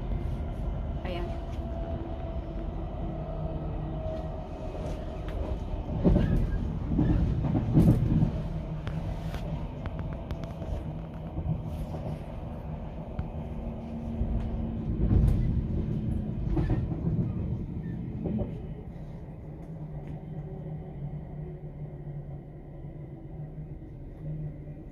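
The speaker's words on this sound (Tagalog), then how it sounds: "ipakita ko sa inyo, guys, yung train na talagang empty" An empty train runs through a quiet station in Norway with a steady low rumble that swells in the middle and fades toward the end, alongside occasional clicks and knocks.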